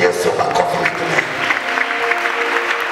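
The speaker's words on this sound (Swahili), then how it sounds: "Chapie Yesu makofi." A congregation at a church service claps for Jesus. Close, lively hand clapping comes in uneven bursts, with voices rising over it.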